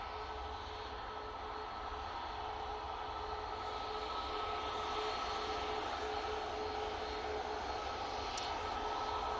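Ryanair Boeing 737 MAX 8 departing Manchester Airport for Nantes, a steady distant jet roar with low rumble holding evenly throughout, no voices.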